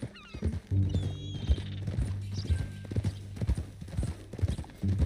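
Horse hooves clip-clop in a steady walking rhythm in the Red Dead Redemption 2 video game, close and clear, with a horse whinnying briefly near the start and low musical tones underneath.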